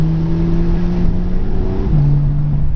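A Ferrari sports car engine drones on the road, holding a steady, loud mechanical tone that drops in pitch partway through.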